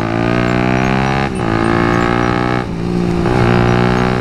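A very small motorcycle being ridden, its engine droning with a strong steady tone that dips briefly twice as the rider eases off and then picks back up.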